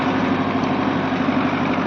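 A tractor engine idles steadily and fairly loud, a constant low hum with an even mechanical drone running unbroken throughout, no voices.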